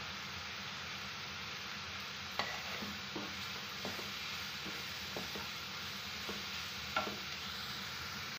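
Onion with red chili powder, turmeric, dry mango powder and green chili frying in a pan for onion-besan paratha, a steady soft sizzle with occasional spoon stirs and clicks, close and moderately quiet, no talking.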